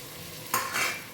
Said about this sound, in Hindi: और अब इसे 1 मिनट के लिए भून लेते हैं।